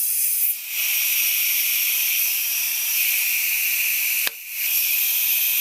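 Steady compressed-air hiss from a pneumatic valve spring compressor working on an LS engine, a loud continuous rush with a couple of brief dips and one sharp click near the end.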